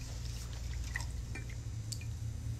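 A paintbrush is rinsed in a container of water during furniture restoration, giving soft, continuous dripping and sloshing liquid sounds close by with no talking.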